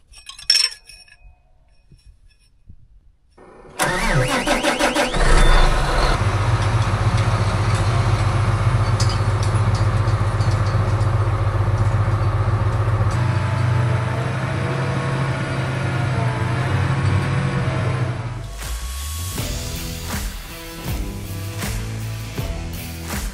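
A piece of green farm equipment starts and settles into a steady low idle after a quiet stretch of small clinks, running evenly for a long while before the engine note shifts and mechanical clatter takes over near the end.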